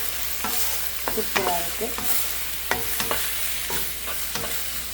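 Vegetable curry is stirred in a sizzling pan, with repeated scrapes and clacks of a spoon against the metal over a steady frying hiss. A voice speaks briefly.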